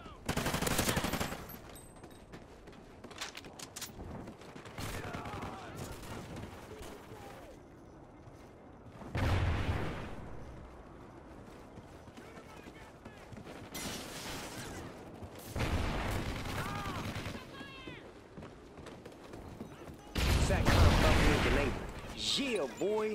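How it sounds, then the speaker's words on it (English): Sentry gun firing in a video game, loud bursts of automatic gunfire that come in several separate volleys, with voices and game chatter between them. "Sentry gun ready to roll."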